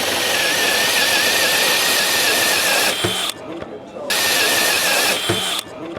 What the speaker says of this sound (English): just start drilling. It will engage